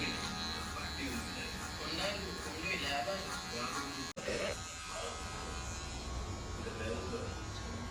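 An electric hair clipper buzzes steadily up close as it cuts hair, with a brief cutoff midway before the hum resumes, while people talk over it.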